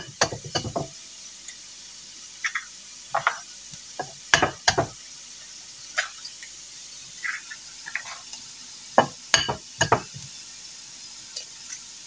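Food browns in a medium frying pan while an omelette is being prepared, with a faint sizzle under sharp, scattered clinks and scrapes of a utensil stirring against the pan.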